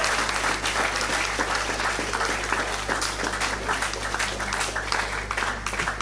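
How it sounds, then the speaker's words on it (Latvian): An audience at a Miss and Mister Ogre pageant gives loud, sustained applause, with many hands clapping densely and evenly over a low steady hum from the venue. "Aplausi!"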